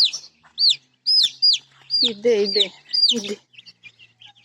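High peeping chirps of young chickens close by, repeated in quick bursts, while a person speaks over them.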